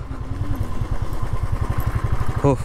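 A motorcycle rides a narrow, newly built mountain road on the way toward Teesta Bazaar, its engine throbbing in a steady, loud pulse close up throughout, with a brief rising whine near the end.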